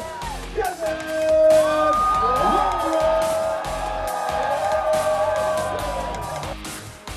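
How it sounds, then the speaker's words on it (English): A crowd at the Red Bull King of the Air 2014 kiteboarding event cheers and whoops after the winner is called, lively and sustained under an announcer's amplified voice. "Round of applause for King of the Air 2014"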